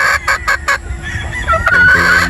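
A gamefowl rooster clucks and gives short crowing calls, loud and close, in a series of clipped bursts with no one speaking.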